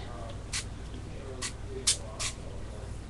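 Several short hissing bursts from a spray can, fairly faint and spaced unevenly, over a quiet background.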